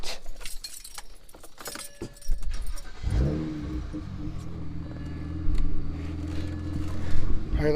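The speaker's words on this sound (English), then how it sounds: "Now let's start the car and check it out." A 2007 BMW E92 coupe's engine cranks and catches partway through, settling into a steady low idle after some earlier clicking and jangling of keys.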